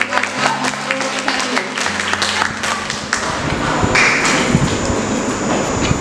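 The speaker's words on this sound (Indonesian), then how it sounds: "Oke, beri tepuk tangan dulu." An audience claps at a student executive board presidential and vice-presidential candidate debate, a dense patter of applause that continues for several seconds alongside faint tonal ringing.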